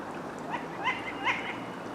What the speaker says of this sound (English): a lot of people think the Tawny Owls just hoot, but there's all sorts of calls that Tawny Owls use